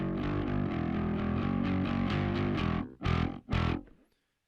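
A heavily distorted electric guitar through a Microtubes X Ultra bass preamp pedal rings out in a sustained chord, then two short choppy strums before cutting to silence.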